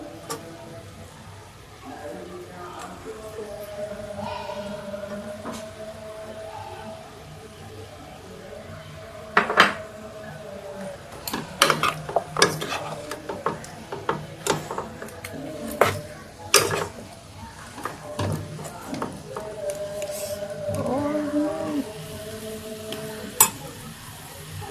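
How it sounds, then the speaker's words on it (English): Pots and metal utensils clatter and scrape as onions go into a pan for dry-fry kienyeji chicken, with irregular knocks and stirring over a faint background hum, moderately close. "So guys, I'm going to put onions."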